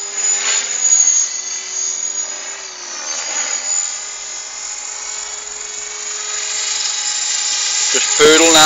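An Align T-Rex 500 RC helicopter flying after losing its gear gives off a steady high-pitched whine with a buzzing drone that rises and falls slightly, loud and close, ending with a brief rattle.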